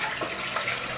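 Strawberry margarita mix poured over ice, a brief close splashing, gurgling stream of liquid that runs steadily for about a second without any talking.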